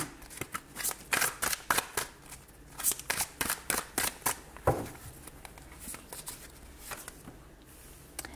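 Tarot cards shuffled by hand for a reading, a quick run of crisp riffling flutters and taps repeating in uneven bursts, close and fairly quiet with no talk.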